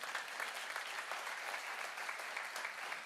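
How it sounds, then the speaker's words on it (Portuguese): A church congregation claps together in steady, dense applause, sustained and even throughout with no voices standing out. "Aplaude o Senhor que eu vou beber água."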